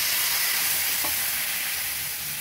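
Neer dosa batter hits a hot tawa greased with coconut oil and sizzles in a loud, continuous, close frying hiss, with one brief scrape partway through.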